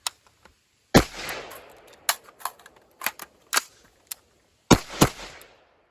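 Several sharp gunshots from a handgun fired near a battle belt setup, spaced irregularly with quiet gaps between, a couple of quick pairs among single reports, each loud and close with a short ringing tail.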